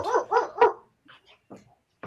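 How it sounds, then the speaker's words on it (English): Dogs give three quick, close barks in a row, followed by a few softer yips and whimpers after a brief pause. "The dogs are speaking."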